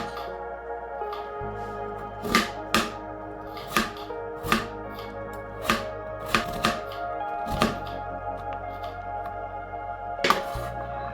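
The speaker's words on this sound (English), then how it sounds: "So I start cutting my vegetables, starting with the carrot." Knife chopping carrot and other vegetables on a cutting board, a steady series of sharp, close taps and knocks with short pauses between them, heard alone.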